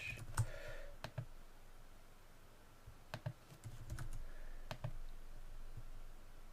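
A password is typed on a computer keyboard at close range as a few scattered, sparse key clicks and taps with pauses between them, against a quiet room.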